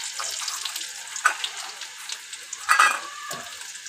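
Garlic frying in a pan for a fish curry, a soft continuous sizzle with a couple of louder bursts of crackle as it is stirred, fairly quiet and close.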